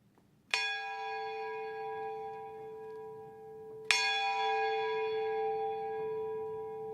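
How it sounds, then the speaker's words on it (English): The Lutine Bell at Lloyd's of London rung at a memorial event marking the accession of King Charles III: two loud, clear strikes about three seconds apart, each leaving a long, steady ringing decay in a quiet hall. "will now ring the Lutine Bell to mark the accession of His Majesty King Charles III"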